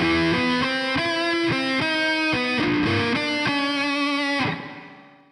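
Guitar played through a Silver Verb reverb effect in Logic Pro for iPad: a series of bright, rhythmic strummed chords with a lush wash, ending in a short reverb tail that fades out, no talk.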